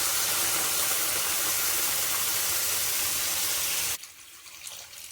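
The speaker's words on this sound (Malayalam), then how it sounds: "വേവാൻ ആവശ്യത്തിന് വെള്ളം ഒഴിക്കുക." Water poured into a cooking pot of prawn masala, a loud, steady rushing pour close to the microphone that cuts off abruptly after about four seconds, leaving quiet kitchen sounds.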